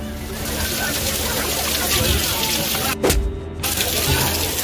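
Someone wades through water on a flooded path toward Lenyadri Ganpati, with sloshing and splashing amid a continuous wash of water noise, a brief louder splash near the middle and voices talking throughout.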